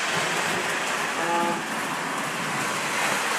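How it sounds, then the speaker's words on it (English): Model trains run on a double-track main line of a large layout, giving a steady, even rolling rumble that carries on throughout without speech. "I'm just running some trains right now after putting in the tortoises."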